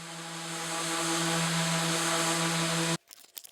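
A power sander working on wood, a steady loud motor whine with strong tonal hum that holds for about three seconds, then cuts off abruptly, leaving faint handling noises.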